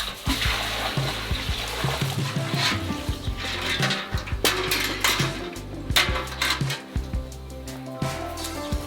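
Water drawn from a well is poured into a bucket, giving a close trickling, splashing stream with metallic knocks and clinks of the pail.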